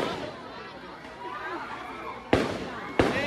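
Fireworks go off outdoors in a steady rumble, then two sharp, loud bangs land about half a second apart near the end, with a crowd chattering throughout.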